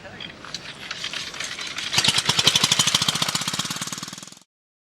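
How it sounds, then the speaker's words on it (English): A vintage motorcycle single engine fires up after decompression via the valve lifter and revs in a rapid, steady thumping beat that builds louder before cutting off abruptly, heard close up without talk. "raise the valve lifter which decompresses the engine, and then I just paddle off"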